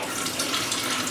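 Cold tap water running in a thin stream to rinse a vanilla pod, a soft steady splashing trickle into a sink, continuous and fairly quiet.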